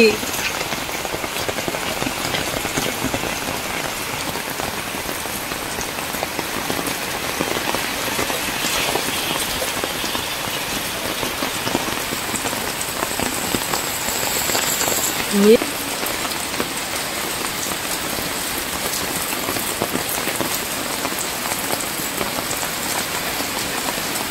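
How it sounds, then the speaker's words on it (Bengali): Heavy rain pouring steadily in a rural area with date palms, a dense, loud, continuous patter on surfaces lasting throughout without letup. "এত জোরে বৃষ্টি হচ্ছে, গাছগুলো শুধু দোলা মারতেছে"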